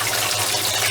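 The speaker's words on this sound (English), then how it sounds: "Pumping over to that tank over there" A pump moving dirty water from an aquaponics sand and gravel filter over to another tank, a loud, steady rushing gush of flowing water, close and unbroken.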